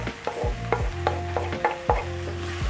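A pot of beef stew with green pepper and fresh basil is stirred in repeated scraping strokes roughly every half second, each with a faint tonal squeal of utensil on pot over a low simmering bed.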